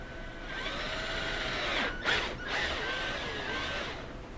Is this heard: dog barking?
no